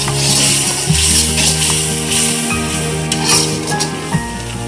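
Prawn head curry sizzles and fries in a pan while a utensil stirs it with steady scraping, loud and close throughout with no talk.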